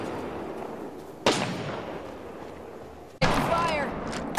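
Gunfire in the video game Apex Legends: two sharp shot bursts about two seconds apart, each snapping in suddenly and fading off, over a quiet low background.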